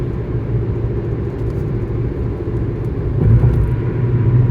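A car drives through rush hour traffic with a steady low road rumble and engine hum that swells louder near the end, and no one speaks.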